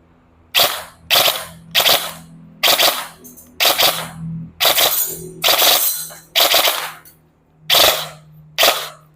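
A G&G ARP9 electric airsoft gun fires repeated short full-auto bursts, about a dozen sharp buzzing volleys separated by brief pauses, loud and close with no talk.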